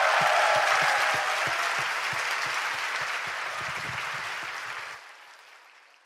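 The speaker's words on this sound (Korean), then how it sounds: "다시 한번 박수 부탁드립니다." Audience applause at a Korean talk-show stage event, a dense wash of clapping that fades gradually and cuts off near the end, with low thumps underneath.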